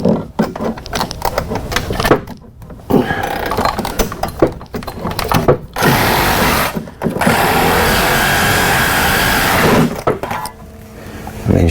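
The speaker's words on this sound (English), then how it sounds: "I'm gonna try to get the sawzall up there." A Sawzall reciprocating saw cuts underneath a Dodge Challenger during driveshaft and differential work, loud buzzing bursts of varying length with short gaps, mixed with metallic clatter close by.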